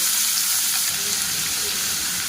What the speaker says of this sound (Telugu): ప్యాన్ హీట్ అయ్యాక 2 టేబుల్ స్పూన్ ఆయిల్ వేసుకోవాలి. 1 కప్ ఆనియన్ యాడ్ చేసుకోవాలి.